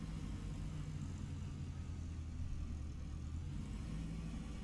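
Simulated Robinson R22 helicopter in X-Plane 12 as its engine spins up the rotor blades, a steady low droning rumble that stays even and continuous throughout, with no voices.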